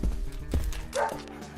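Dog barking in the horror video game Deadly Premonition, a few short close barks and yips over a low game ambience, with a muffled voice in the background.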